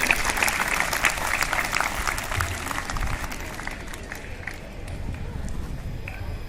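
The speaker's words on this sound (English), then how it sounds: "Let us put a good round of applause for all the participants and the house masters, the house team." Children in a school audience give a dense round of applause at an English skit competition, loud at first and gradually thinning out, with scattered voices in the crowd.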